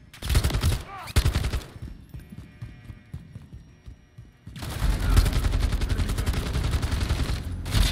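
Enemy gunner's machine gun in a Call of Duty MW3 battle, with heavy rapid bursts at the start, a quieter stretch of rumbling background action, then a long continuous barrage of close, loud gunfire.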